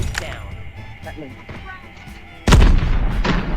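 A sudden loud grenade blast in Call of Duty Mobile booms about two-thirds through, after sparse gunfire pops, with excited voices talking over the game action.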